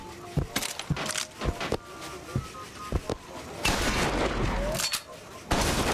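Shotgun fire in the video game Bioshock Infinite: several sharp, loud blasts scattered irregularly over a few seconds, mixed with dense combat noise and a steadier roar near the end.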